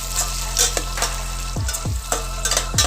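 Garlic, green chili and onion fry in a pan for vegan chilli tofu while being stirred, with a soft sizzle and several quick scraping strokes of a utensil against the pan.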